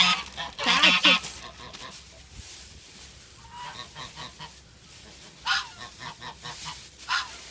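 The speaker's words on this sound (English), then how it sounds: "You know what they remind me of? The geese from the Aristocats." Farm geese honking loudly and close by in repeated harsh bursts, an early cluster followed by scattered calls with quieter gaps, no talk over them.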